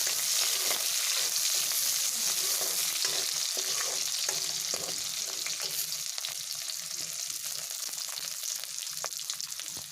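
Onions frying in a pan with steady, loud sizzling and occasional stirring scrapes, continuous throughout.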